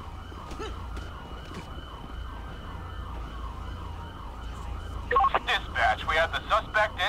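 An ambulance siren wails in GTA V with the LSPDFR mod, cycling steadily at mid distance under road noise, then a louder switch to a rapid yelp tone near the end.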